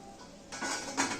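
Fried layered farsi puri is lifted out of hot oil with a metal slotted spoon, giving short metallic clinks and scrapes against the pan over a faint sizzle, growing louder midway with a sharper clatter near the end.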